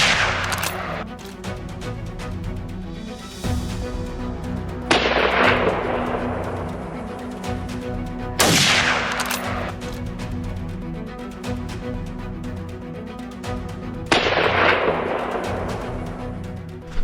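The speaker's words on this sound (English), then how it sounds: "a large gunshot will alert the entire group" Three loud, sharp gunshots fired while hunting baboons, spaced several seconds apart, each followed by a long rolling echo across open terrain with a steady low background rumble between.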